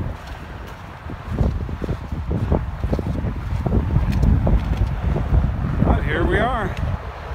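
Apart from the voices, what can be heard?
strong wind blowing on a trail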